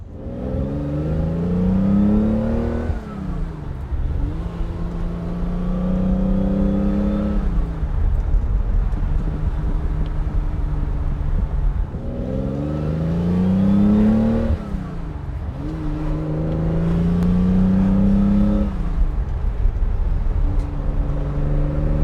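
A 1972 Ferrari 365 GTC/4 with a 4.4 liter V12 on a road drive, loud close engine note rising through the gears with repeated revving climbs and shift dips.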